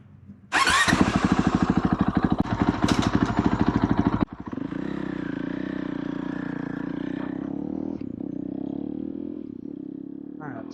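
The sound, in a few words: Honda CRF450L motorcycle engine started and warming up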